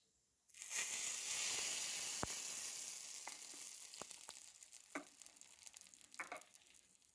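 Curry leaves hit hot oil in a tempering for mung dal chutney and a sudden loud sizzle erupts, gradually settling into a quieter crackle with scattered sharp pops.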